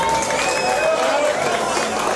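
An audience applauds at a community event in Mhlanga. The clapping is a dense, steady wash of crowd noise that runs through the whole short stretch.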